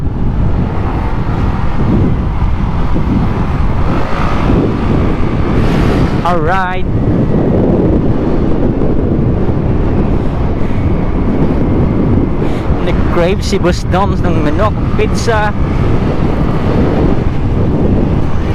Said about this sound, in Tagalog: medyo malakas-lakas yung hangin